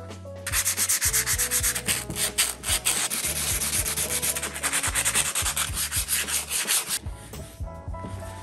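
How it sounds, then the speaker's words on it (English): Sandpaper rubs steadily across a metal vise to strip off scale, a loud, close, continuous scratchy rasp with rhythmic back-and-forth strokes, heard alone for several seconds. "sandpaper on there. Start removing some of the scale."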